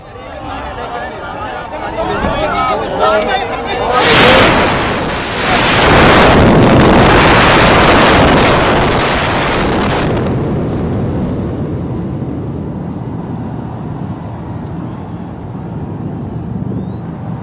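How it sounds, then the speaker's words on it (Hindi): A huge roaring blast from the demolition of twin tower buildings in Noida erupts and rumbles for several seconds, loud and broadband, then fades into steady wind buffeting the microphone. "दिस साइड जबरदस्त धमाका आपने देखा अभी"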